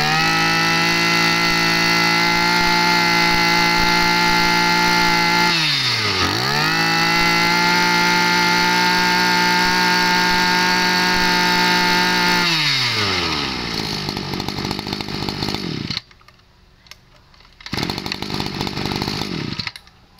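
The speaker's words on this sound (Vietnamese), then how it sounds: "D12 là con Echo khủng long ăn cỏ, nồng 32 ly, nó 25cc anh em." A 25cc Echo D12 Japanese brush cutter engine runs loud and steady at high revs, dips briefly, revs back up, then winds down to a low idle, stops for a moment and restarts.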